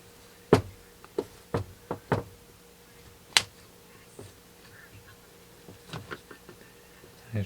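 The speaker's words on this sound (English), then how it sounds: "I'm just going to take a little flat screwdriver and we're just going to go ahead and pop our mold open." Fish fin casting mold pried open with a small flat screwdriver, giving sharp, close clicks and knocks scattered irregularly over a quiet background, with a couple of louder snaps.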